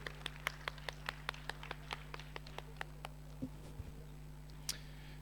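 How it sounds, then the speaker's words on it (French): An audience claps for a person named Erun, sparse individual hand claps in a brisk, uneven rhythm that thin out and stop partway through, followed by faint rustling and a last isolated clap. "Donc applaudissements aussi pour Erun"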